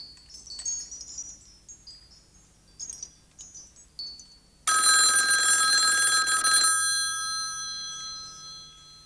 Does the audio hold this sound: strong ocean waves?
no